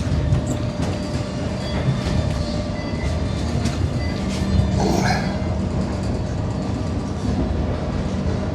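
Steady rumble and rattle from inside a moving train headed to Melbourne Airport on a sunny morning, with continuous wheel noise and faint clicks and squeals, no voices.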